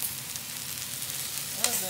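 Hearts of palm sizzle on a hot griddle with a steady, close crackling hiss and a brief scrape near the end, alone without talk.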